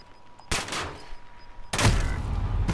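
Gunfire in the video game Modern Warfare, with two loud, close bursts of shots separated by about a second, ringing over a steady game background.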